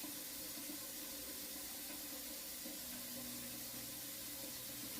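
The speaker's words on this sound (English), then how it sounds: "I'm going to fill this pot up with some water." Tap water runs steadily into a cooking pot for spaghetti, a constant close hiss and splash with a faint rising tone as the pot fills, no talk.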